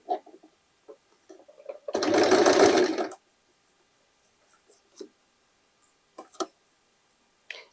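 A sewing machine runs a single steady burst of overlock stitching on a denim jacket made from old jeans, loud and close for about a second, with quiet handling noises before and after.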